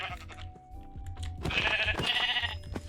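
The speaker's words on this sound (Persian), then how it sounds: "چقدر ماشاءالله گوسفند هستن اینجا، نگاه کن" Sheep in the Minecraft video game bleat several times in short, nasal calls, moderately loud over light game sounds and soft crunching steps.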